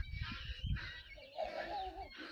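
Harsh, rasping calls from nearby guinea fowl, a few grating cries in a row over low rumbling background noise.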